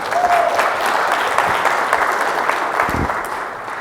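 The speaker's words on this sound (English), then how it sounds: "Huge round of applause for Krithika as well" An audience applauds a presenter on stage at a customer and partner event, loud dense clapping that holds steady for nearly four seconds before easing slightly, with no talking over it.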